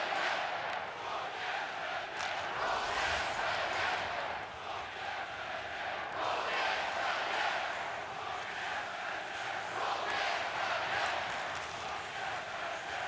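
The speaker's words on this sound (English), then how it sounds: "Now the crowd really pumped up and ready. Cheering on the Tre Krona tonight." An ice hockey arena crowd at a Sweden versus Belarus game cheers and roars steadily for Sweden, a dense sustained wash of voices with a commentator talking over it.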